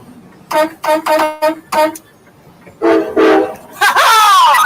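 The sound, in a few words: train horn honking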